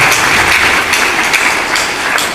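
Seminar audience applause in Jagdalpur, a dense, loud wash of many hands clapping together, steady and continuous, with no voices breaking through.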